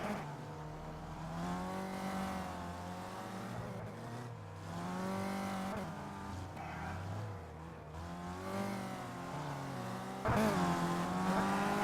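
Small race cars circle a track in the rFactor 2 racing game while warming up. Their engines form a steady, continuous drone, with revs rising and falling as the cars pass, and there is no talk.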